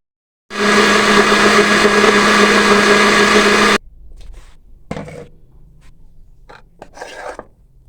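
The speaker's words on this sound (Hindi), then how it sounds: "1 कप हम इसमें दूध शामिल करेंगे, इसको ग्राइंड करेंगे।" A kitchen blender grinds torn bread pieces with a cup of milk for a kheer base, a loud, dense whir running steadily for about three seconds then cutting off, followed by quieter scraping and clinks.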